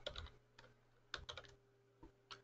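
Quiet keystrokes on a computer keyboard while entering an Excel formula, a few irregular clusters of soft clicks with short pauses, close and alone.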